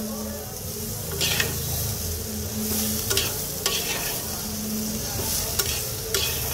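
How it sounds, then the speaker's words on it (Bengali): Potatoes frying lightly in a pan with turmeric and coriander powder for a prawn curry, a steady close sizzle broken by several brief stirring scrapes, with no talking. "আগে আলুটা একটু হালকা ভাজা হোক।"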